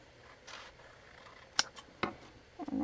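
Scissors trimming paper for a handmade journal, a few quiet separate snips close up in a calm room.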